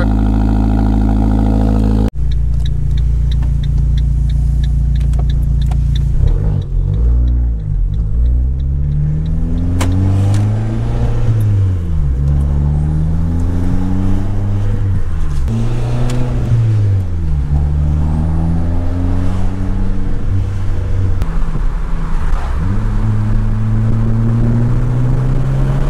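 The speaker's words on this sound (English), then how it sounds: "Cold start." An Abarth 500 engine cold-starts with a sharp crank and catch, then settles into a loud, steady idle with repeated rising revs, close and continuous with no talking.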